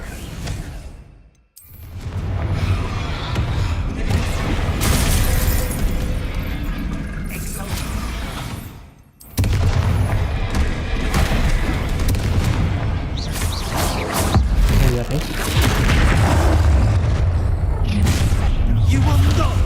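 Bombarda blasting-spell explosions in the Hogwarts Legacy video game, a dense, loud run of booming blasts and whooshes over a constant game-combat din, with two short dropouts and spoken voices mixed in.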